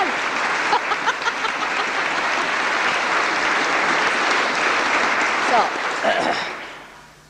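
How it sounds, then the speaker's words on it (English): Sustained applause from a Sahaja Yoga audience gathered in a castle in France, a full, close wash of many hands clapping that holds steady before tapering off and fading out near the end. "You are clapping for yourself."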